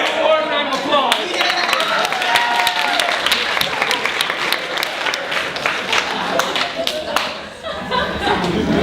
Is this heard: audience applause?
yes